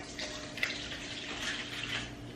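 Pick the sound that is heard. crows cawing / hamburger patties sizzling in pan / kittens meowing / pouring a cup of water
pouring a cup of water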